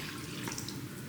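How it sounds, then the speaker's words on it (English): Warm water pours steadily into a mixing bowl for focaccia dough, a continuous close splashing trickle with no talk over it. "I'm starting off in my bowl, just adding the warm water"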